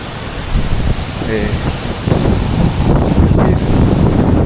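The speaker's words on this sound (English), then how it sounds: "So the branches on the trees are dancing because of the wind. Windy, very windy." Strong wind buffets the microphone in a continuous loud roar with rumbling gusts, close and harsh throughout.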